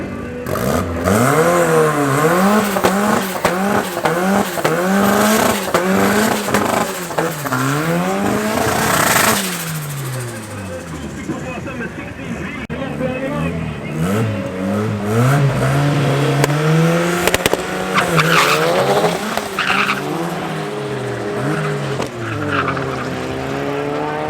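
An Opel and a Golf 6 GTI race side by side at Midvaal Raceway, engines revving loudly through repeated rising gear pulls and shifts, with tyre squeal, the sound fading and then building again near the end.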